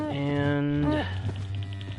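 A cow moos in Minecraft, one drawn-out synthetic low call lasting about a second and then falling off, loud and close with no talk over it.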